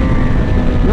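A 2018 BMW S1000XR motorcycle with a quick shifter roars close and loud under heavy wind buffeting, its engine note steady and rising slightly at the end of a very short burst.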